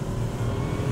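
An Aston Martin drives under acceleration, its engine giving a brief, steady, loud low drone heard from close by.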